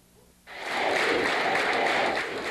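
Culinary Union hotel housekeepers burst into loud, sustained applause and cheering that starts abruptly after a quiet moment and holds steady to the end.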